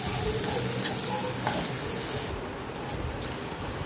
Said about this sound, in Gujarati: બરાબર સૂકી ડુંગળી લાલ થશે ત્યાં સુધી શેકીશું પછી નાખીશું અંદર ટામેટાં ટામેટાને પણ સાતળવા દઈશું